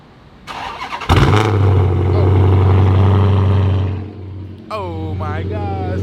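A catless SRT car cold-starts with a sharp crank and loud burst, then settles into a heavy, rumbling idle close by, with voices talking over the engine near the end.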